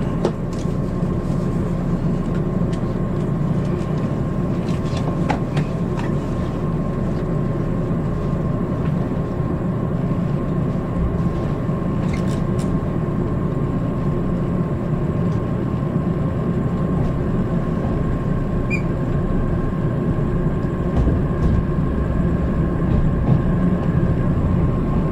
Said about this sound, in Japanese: 唐木田駅ホームへと列車が動きます